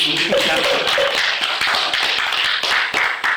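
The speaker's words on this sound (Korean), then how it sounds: "박수." A room at a Buddhist society's founding general meeting breaks into applause after an election, uneven clapping from a modest group, with a voice briefly audible at the start.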